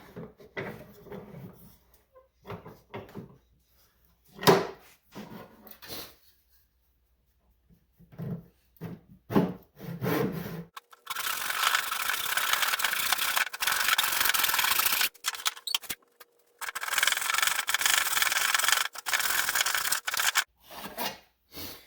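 A handsaw cuts wood for a small knife box in rhythmic rasping strokes, first in short separated bursts and then in long continuous sawing, close and fairly loud, with knocks and handling noises in between.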